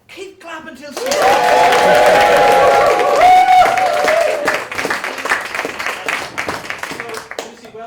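Audience clapping at an improv comedy show, loud and steady for several seconds alongside a held vocal tone, then thinning into scattered claps as a voice talks over it.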